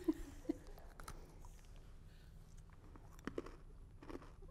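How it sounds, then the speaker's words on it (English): Crunchy bites into a holiday treat, a few sharp, close crisp cracks spaced out over a quiet background, with faint chewing between them. "Oh, that's a good crunch."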